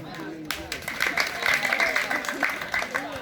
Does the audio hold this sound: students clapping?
yes